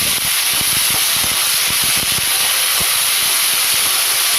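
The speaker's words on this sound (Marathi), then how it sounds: "सर्व तेंडली घालून घेतली. गॅस थोडा मध्यम केला आणि तेंडलीला थोडीशी परतून घ्यायची तेलावर." Ivy gourd (tendli) sautéing in oil in a pan over medium heat, a steady loud hiss and sizzle with dense crackling throughout, no voices.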